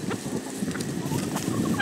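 Several chickens cluck softly and intermittently in the background, a low busy farmyard murmur with short chirpy calls scattered throughout.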